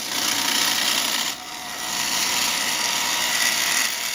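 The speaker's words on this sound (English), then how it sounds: "I'm taking another push cut here to true up the outside of the bowl." Gouge taking a push cut on the outside of a thin maple bowl spinning on a wood lathe, a loud, steady hissing scrape close up, with a brief dip as the tool lifts before cutting continues.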